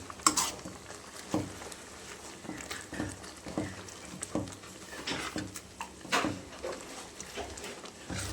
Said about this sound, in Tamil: நல்லா கிளறி விட்டுக்கணும்.